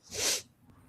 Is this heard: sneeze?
yes